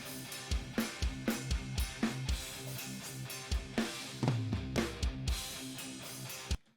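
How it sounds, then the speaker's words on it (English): A full drum kit from Jens Bogren drum samples plays a steady groove, with punchy kick and snare hits and bright cymbals ringing over the top, then stops abruptly. "But here, the drums sound like this."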